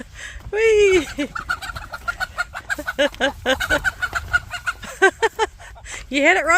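A rooster and hens cluck and squawk in a busy, rapid string of calls, loud and close, with a drawn-out crow-like cry near the start, on a trail in South Korea.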